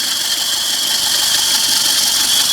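A 1977 Ford Taunus 1.6 GL engine idles steadily up close, a loud, even mechanical whir with a constant hiss and no pauses.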